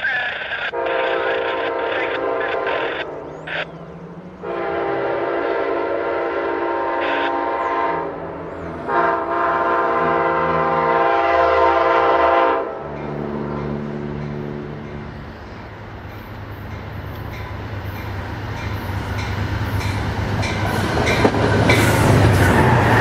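Amtrak passenger train approaching, its horn sounding in several long blasts, loud and close, then the low rumble and rail noise of the train passing, with a brief voice from a radio or bystander.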